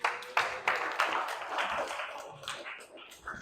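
Classroom applause for a student named Hafiz, a short burst of scattered hand claps from a group of pupils, fairly close and uneven, fading toward the end.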